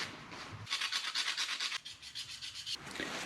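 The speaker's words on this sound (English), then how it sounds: "I'm just going to wipe them down good, scrape what I can" Steady back-and-forth rubbing and scraping on Toyota 4Runner (second generation) brake backing plates during a front-end job, a close rasping scrub in rhythmic strokes that pauses briefly and resumes, with no talk.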